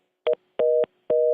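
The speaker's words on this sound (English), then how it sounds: "Now my phone system is going nuts." Telephone system tones: three electronic beeps, the first short and the next two longer, evenly spaced, clean and fairly loud with no talking.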